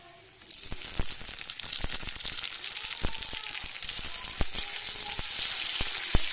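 Tomatoes for a prawn malai curry hit hot oil and burst into a loud, close sizzle that keeps building, with crackles and sharp spits popping through it, and no voices.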